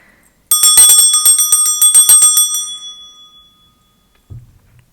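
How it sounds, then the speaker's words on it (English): A small handheld bell is rung to clear energy before a tarot reading, a rapid run of bright metallic dings that rings out and fades, followed by a short soft thump. "I'm going to start by clearing the energy with my bell."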